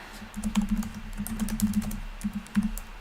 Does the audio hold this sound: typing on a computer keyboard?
yes